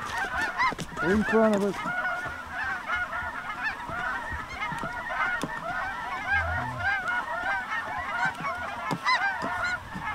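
A large flock of geese honks loudly and continuously during a goose hunt over decoys, dense overlapping calls filling the scene, with a brief spoken voice near the start.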